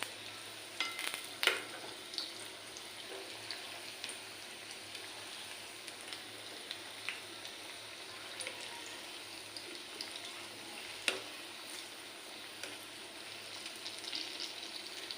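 Moong dal bhaji fritters deep-fry in hot oil over a low gas flame, giving a steady soft sizzle and bubbling throughout with a few light clicks and stirs, fairly faint and with no talk.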